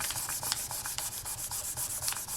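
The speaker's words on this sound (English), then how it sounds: "Then burnish again." Burnishing polymer clay beads by hand, a quick run of soft, dry rubbing strokes in an even rhythm, close and quiet, with no talking.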